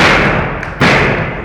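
A heavy thud as a professional wrestler's leg drop lands on the ring mat, one sharp impact rising out of steady crowd noise and commentary.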